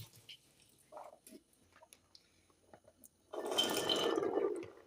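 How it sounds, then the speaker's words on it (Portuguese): Soaked chickpeas being drained through a sieve, with a steady rush of pouring water and splashing lasting about a second and a half after a few quiet kitchen clinks. "Você vai escorrer esse grão de bico com a peneira, escorrer toda a água dele."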